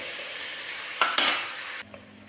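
Chicken curry ingredients sizzling in a pan with a steady close hiss, a couple of brief stirring scrapes, and the frying noise dropping sharply near the end, leaving a faint hum.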